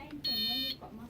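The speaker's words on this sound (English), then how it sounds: "That's the first beep." A KT1000 knee testing device gives a single high electronic beep lasting about half a second, heard with people talking nearby.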